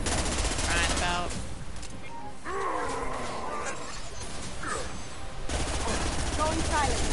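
Gunfire in the video game Mass Effect 2 crackles in rapid bursts during a battle with a Krogan, mixed with animal-like roars and game effects, while voices talk over much of the action.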